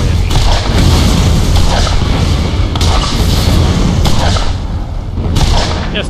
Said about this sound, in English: Now there might be only one person firing constantly at me.